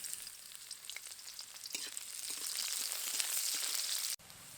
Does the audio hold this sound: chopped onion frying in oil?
yes